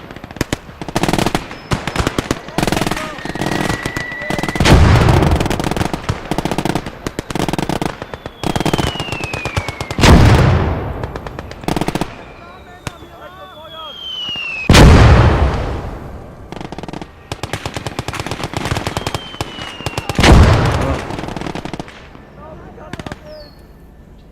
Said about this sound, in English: Achtung! Feindliches Beschuss!